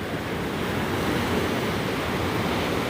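Ocean surf rolls onto Mission Beach in San Diego, a continuous broad roar of breaking waves with some wind rumbling against the microphone.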